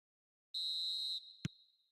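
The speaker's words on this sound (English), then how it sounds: "Referee looks at his watch and blows his whistle." A referee's whistle in an eFootball match, one long steady shrill blast followed by a brief sharp tone with a thump, fading away afterward.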